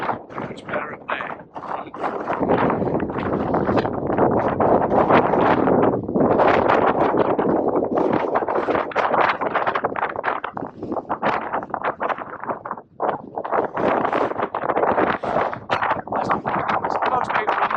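Strong gale-force wind buffets the microphone for the whole stretch, a loud, continuous roaring rush with gusty surges and brief lulls, while a voice talks over it now and then.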